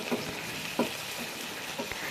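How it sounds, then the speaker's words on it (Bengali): Broccoli and potatoes being stirred in a pan with added water, a soft, low simmering sizzle broken by a few light spoon knocks against the pan. "দিয়ে আমি আবারও ভালো করে নাড়াচাড়া করে নিচ্ছি।"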